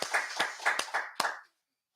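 A small church Bible study group claps together after a break, a short burst of several quick, fairly close hand claps in uneven rhythm that stops abruptly, leaving silence.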